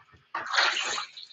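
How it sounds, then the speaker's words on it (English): An object drops into a water bucket with a sudden bright splash and a brief sloshing tail, close by, after a moment of quiet. "I was lucky that landed right in the water bucket."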